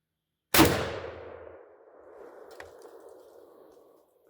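A single sharp gunshot strikes a steel swinging target, followed by a long metallic ring that slowly fades as the plate rocks, with a fainter second clank a couple of seconds later; no talking.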